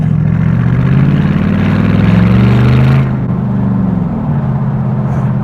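A Mercedes SLR's engine runs steadily and loudly while driving, a deep sustained drone that eases off in pitch and level about halfway through, with no talk over it.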